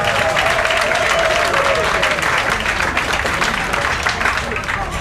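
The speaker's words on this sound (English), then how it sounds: "I'm glad that you can applaud" A banquet audience in Paris applauds steadily for several seconds, a dense wash of clapping that holds at a loud, even level with a voice faintly under it.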